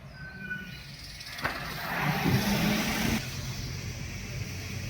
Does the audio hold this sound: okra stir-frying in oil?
no